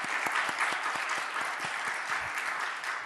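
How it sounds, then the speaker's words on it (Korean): Church congregation clapping to welcome new members at a Sunday service, a dense, steady round of many hands filling the room for several seconds. "우리 사부 예배에서 공식적으로 우리 큰 박수로 한번 환영하겠습니다"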